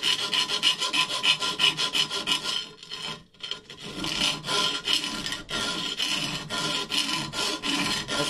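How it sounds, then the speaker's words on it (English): Hand file rasping back and forth over the sharp edges of an aluminum clutch cover from a motorized bike, a steady run of close, loud scraping strokes with a short pause midway, no talking. "now we're gonna go ahead and file the clutch cover down"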